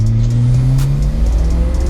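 Loud, close turbocharged engine of a 1994 Toyota GT-Four ST205, rally-derived, pulling hard under acceleration as a rising, steady drone.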